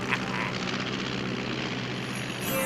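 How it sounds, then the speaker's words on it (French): A motorcycle-like engine drones steadily in an animated Christmas cartoon, a loud continuous buzzing hum with a whirring, helicopter-like quality and no speech over it. "on aurait dit le bruit d'une moto"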